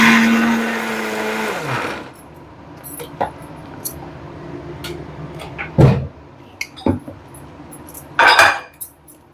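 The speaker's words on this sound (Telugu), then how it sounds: "మిక్సీ సౌండ్ వస్తుందేమో అండి" A kitchen mixer grinder whirs loudly while grinding sweet corn, then stops after about two seconds, followed by scattered clinks and knocks of utensils and dishes.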